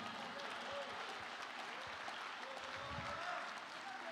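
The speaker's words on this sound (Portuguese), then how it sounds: "Aplauda o Senhor Jesus." A church congregation applauding during a Portuguese-language sermon in praise of Jesus, a steady wash of clapping from many hands sustained throughout, with voices mixed into the crowd.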